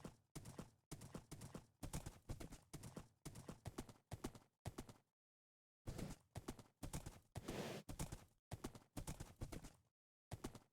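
Horse hooves clip-clop steadily in the Minecraft-based modpack Sevtech Ages, a fast rhythmic run of hoof steps that breaks off briefly near the middle before resuming, loud and close with no talking.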